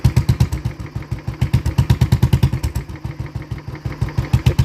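A Royal Enfield Bullet with a short silencer is blipped and revved up close. Its deep thumping exhaust pulses quicken and surge in loudness, then settle back to a steady beat.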